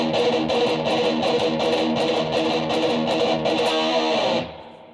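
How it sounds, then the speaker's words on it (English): Heavily distorted electric guitar chord chugged in a fast galloping heavy metal rhythm, loud and steady with repeated palm-muted pulses for about four seconds before cutting off sharply. "as you speed it up, you'll start hearing that metal sound and that galloping tone"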